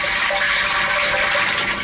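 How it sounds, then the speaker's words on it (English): Water splashing and trickling inside a radiant floor heating loop, its level just below the return line during filling; a steady, close wash of running water with no talk. "as you can hear, get the little splashing sound."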